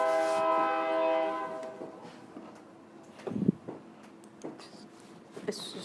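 A passing train sounds its horn in a long sustained blast, then fades into scattered clanks and rumbles of the rail cars, moderately distant and with no talking.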